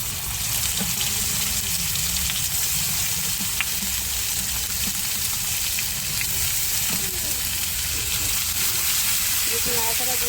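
Ground spice paste, fried and then pounded, is added to hot oil with bay leaves in a cooking pan for an egg dish. A loud, continuous sizzle and crackle fills all ten seconds, close and steady.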